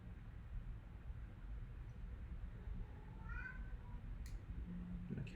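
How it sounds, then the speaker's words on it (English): A cat gives one faint, brief meow in the background, nearly buried under a steady low hum in a workshop where electronics are being soldered. "The cat is meowing."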